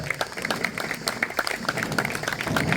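Scattered, moderately quiet clapping from a Lions club audience at a Turkish club presidency handover ceremony, individual claps audible and gradually thickening toward the end.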